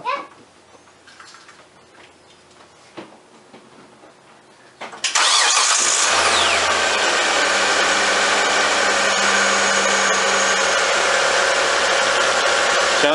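A 2005 Hyundai Santa Fe with a 2.7L engine cranks briefly and catches, then settles into a loud, steady idle close by after a quiet stretch of shop background.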